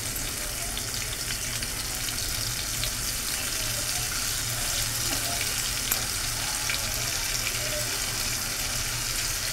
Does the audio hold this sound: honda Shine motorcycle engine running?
no